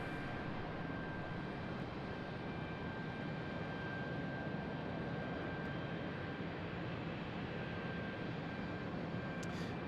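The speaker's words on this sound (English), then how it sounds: "E175 departing." An Embraer E175 jet departs Raleigh-Durham International Airport, its engines a steady, distant, unbroken roar throughout with no talk over it.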